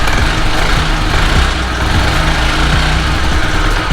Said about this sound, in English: There's some weird noises coming from the CVT.